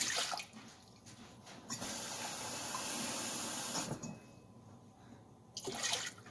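Cold water is poured into a cooking pot, running and splashing steadily for a couple of seconds, stopping, then briefly starting again, heard close up with no talking.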